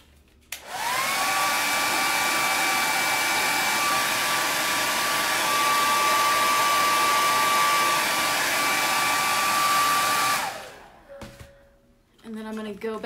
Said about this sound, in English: let me use the blow dryer again.